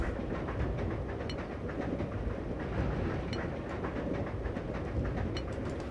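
A train in the Resident Evil 0 video game rattles along steadily, a dense rumbling roar with rapid, regular clicking and clacking from the wheels, loud and continuous with no talking.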